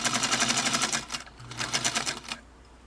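Singer 221 Featherweight sewing machine stitching a couple of layers of cotton, fast steady mechanical clatter that pauses briefly midway then resumes before stopping, close and clear with no talk.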